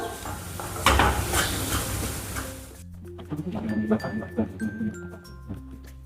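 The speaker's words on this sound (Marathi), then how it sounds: "बेसन छान भाजून घ्यायचं बेसन भाजताना थोडं जास्त तूप टाकायचं" Besan roasting in plenty of ghee sizzles while a spoon stirs and scrapes the pan. A loud burst of frying comes first, then lighter scraping taps under faint background tones. No voice is heard.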